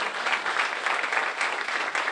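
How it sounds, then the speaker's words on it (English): A church congregation applauds in a steady, dense wash of clapping that fills the room evenly from start to finish, with no voices rising above it. "Can we give a round of applause for all these that came forward this morning"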